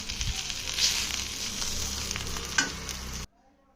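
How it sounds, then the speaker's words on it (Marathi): Onion shallow frying with chili and ginger for a dry prawn curry, a close, crackling sizzle with stirring scrapes that cuts off abruptly near the end. "आपण इथं छान शोलो फ्राय करून घेतलेला आहे छान वास सुटलेला मिरचीचा"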